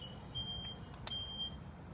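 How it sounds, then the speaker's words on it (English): Smoke detector chirping during a couch fire, a steady high electronic tone broken by short gaps, with a brief sharp burst near the middle, over low rumbling background noise. "Looks like the smoke detector's struggling right now."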